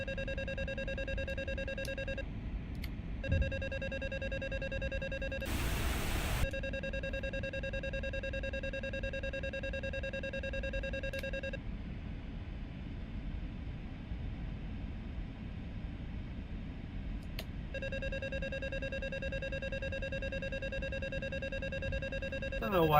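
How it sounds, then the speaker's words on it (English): Steady electronic warning tone of an aircraft's landing gear alarm sounding in a small training plane's cockpit, continuous and fairly loud over engine drone, with a brief radio squelch burst and short dropouts. "Don't know why we have a gear alarm."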